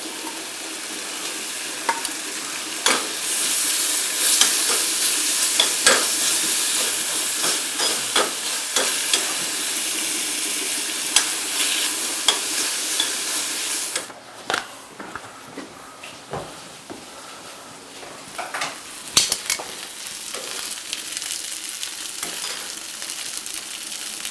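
Duck meat sizzles and fries steadily in a hot pan while being stirred, with scattered scraping clicks from the utensil running throughout and no talking.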